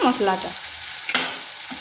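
Poppy seed and melon seed paste sizzles in a wok of hot oil while jackfruit cooks, a short soft crackle with a brief stir scrape near the end.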